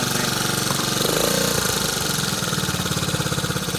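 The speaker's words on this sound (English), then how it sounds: "it's idling a little too fast" A 1969 Honda CT90 motorcycle engine idling a little too fast because of a worn throttle linkage, a rapid steady mechanical putter with a buzzing rattle, close and loud and unbroken throughout.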